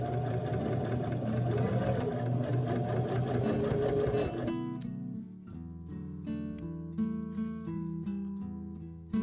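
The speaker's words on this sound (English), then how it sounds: "gave it a good press and a little top stitch on the lining" A sewing machine runs steadily and loudly while top stitching the lining of a prom dress, then the pitch and texture shift partway through as stitching continues.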